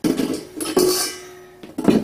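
KitchenAid stand mixer bowl handled while unboxing, with several sharp metallic clinks and clatters in quick succession, close and fairly loud, no talk over them.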